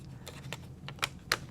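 A laptop keyboard module being pressed back into place in a Framework Laptop 16, giving a few soft, close clicks and taps spread across a second and a half, the last two sharper and louder.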